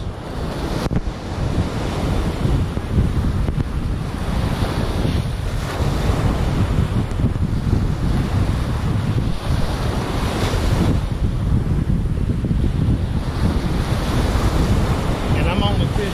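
Ocean surf breaking on the Gulf Shores beach, a loud continuous wash of waves rolling in, with heavy wind buffeting the microphone throughout.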